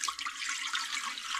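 Warm water is poured from close by onto lemon juice in a kitchen, making a continuous bright splashing pour that lasts the whole moment.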